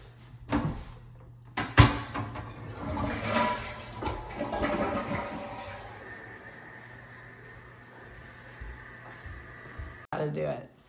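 A toilet flushes with a loud rushing gurgle of water that gradually settles into a steady refill hiss, with a few bumps and a clunk near the end.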